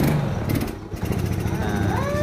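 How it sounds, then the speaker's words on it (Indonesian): Yamaha Mio scooter engine kick-started with its carburetor serviced, running steadily throughout as a continuous close, loud mechanical drone with a brief dip near the start. "Dan sekarang kita coba hidupkan. Kita engkol karena starternya kan nggak dipasang gitu."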